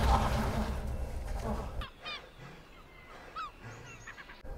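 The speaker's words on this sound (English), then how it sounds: "That was a bird." A bird call from a fantasy TV drama gives several short, high chirping cries after a noisy opening, fairly faint and spaced out against a low background.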